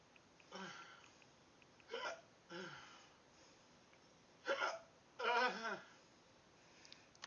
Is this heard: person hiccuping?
yes